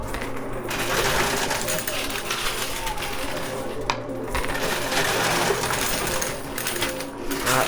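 Coins dropping and clattering in a high-risk coin pusher machine, a continuous dense metallic jangle and rattle, loud and close, with a voice talking over it.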